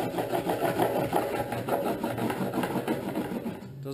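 SilvaGrip grip tape edges are trimmed off a longboard deck in a longboard shop, making a continuous close scraping and rasping with a quick regular stroke rhythm.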